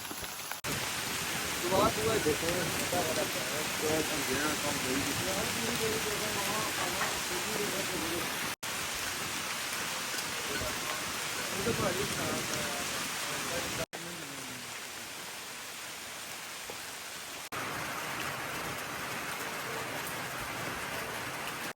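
Steady rain hisses throughout over a wheat field during harvest, a dense broadband wash with brief cuts, while a voice talks faintly underneath for much of it.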